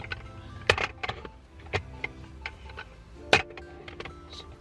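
Car cup holder expander being spun to adjust its fit, giving a series of quiet plastic clicks and ratcheting ticks in an irregular rhythm, close up and alone.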